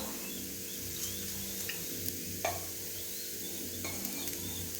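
Ragi and drumstick leaf adai cooking slowly on a pan, giving off a quiet steady sizzle with a few faint light taps and no voices.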